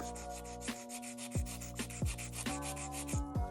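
A nail file rasps back and forth against the free edge of an acrylic nail in short, repeated strokes, close up and with no talking.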